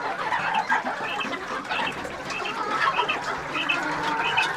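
Several backyard hens cluck steadily nearby in winter, giving short repeated calls and squawks that overlap in a constant flock chatter.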